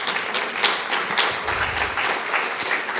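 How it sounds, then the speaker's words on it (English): An audience at a poetry talk claps in a steady round of applause, moderately loud and continuous, with no voices over it. "Can we get a round of applause for Cristiano helping with this?"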